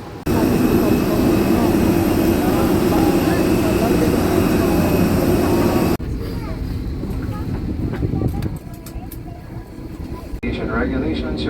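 Airplane engines droning steadily inside the cabin at the gate before takeoff, a loud continuous roar, then a quieter hum after a sudden cut, with a voice talking over it.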